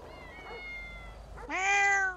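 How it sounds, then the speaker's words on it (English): A drawn-out cat meow in the video game GTA 5 fades, then a louder, brighter meow rises sharply and holds before cutting off, close and clear. "Oh my God, there's now four cats up here."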